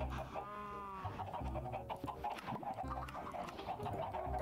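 Chickens in Minecraft clucking repeatedly in short, rhythmic bursts over a low continuous background, fairly quiet and with no talk over them.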